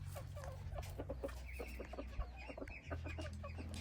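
A decoy chicken calls in the countryside with a run of repeated clucks and short calls at moderate distance, spaced irregularly over a low background hum.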